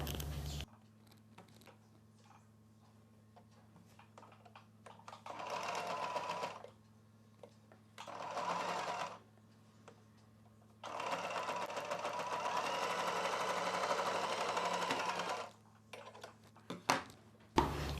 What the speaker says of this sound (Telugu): ఒక చివరన అంచుని జస్ట్ ఇలా ఫోల్డ్ చేసి కుట్టు వేసేసుకోవాలి